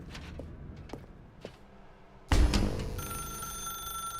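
A few soft footsteps in a quiet room, then a loud telephone bell bursts in suddenly and keeps ringing with a steady metallic tone.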